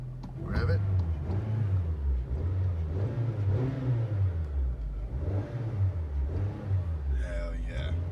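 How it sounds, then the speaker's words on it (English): A Honda Civic engine, just fitted with new engine mounts, revs up and down in several rising and falling swells, close and steady, with a voice briefly heard near the end. "Rev it."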